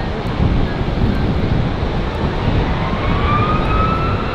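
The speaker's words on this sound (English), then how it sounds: "Just on its take off roll there with a wow noise." Airliner jet engines roaring on the take-off roll at Manchester Airport, a steady loud broadband rumble with a rising whine across the whole stretch, mixed with light wind noise and no talking.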